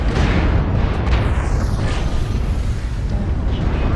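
Incoming missile exploding in MechWarrior Online, loud booming blasts with rushing hiss and falling whistles over continuous heavy combat rumble.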